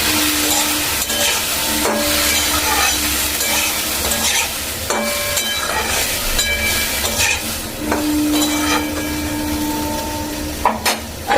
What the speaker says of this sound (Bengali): দিয়ে দিচ্ছি অল্প করে নুন, হলুদ গুঁড়ো, সবগুলো ভালো করে একবার মিশিয়ে নেব